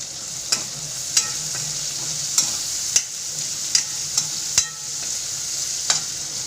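Masala is sautéed in a pan for a drumstick and moong dal dish, with a steady close sizzle and about eight sharp clinks of a spoon stirring against the metal at an uneven pace.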